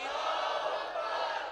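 A large crowd at an outdoor religious gathering in Kotli Loharan East, Sialkot, shouts back in unison after the Nara-e-Takbeer slogan, a loud, sustained, dense roar of many voices with no break.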